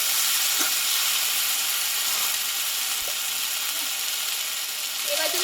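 Ground paste of green chilli, ginger, whole cumin and poppy seed frying in a pan, a dense, even sizzling hiss that holds steady throughout with faint scraping touches, no voices.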